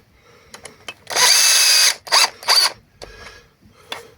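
A power drill or screwdriver drives screws while a microwave and DVD player are taken apart for copper recovery, giving one long whir, then two shorter bursts, among small clicks and handling taps.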